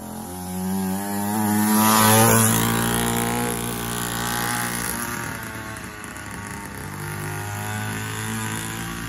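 A dirt bike engine runs steadily and close by, a droning motor tone that swells to a peak early on, then settles into a lower, even hum until the end.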